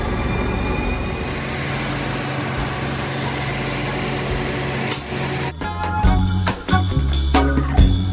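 Train noise at Offenburg station in Germany: a steady rumble and hiss fill the platform, then louder clattering, screeching rail and braking bursts build toward the end as the train draws near.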